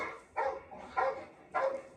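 Dogs in a TV show bark three times at a steady pace, sounding moderately distant and fairly faint.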